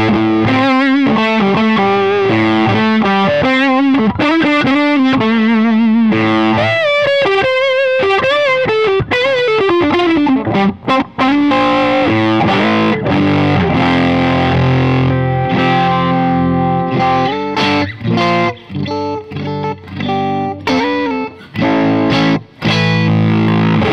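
An electric guitar plays through a vintage-style Fuzz Face fuzz pedal with top hat knobs and a copper finish, giving a warm, thick, distorted tone; fast lead runs give way to sustained chords, loud and up close.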